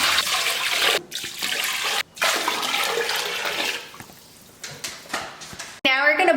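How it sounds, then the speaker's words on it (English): Water poured from a container into a pot holding two chickens for chicken soup, in several splashy bursts with short pauses, under kitchen chatter. "now you're gonna add 24 cups of water to the 2 chickens in the pot."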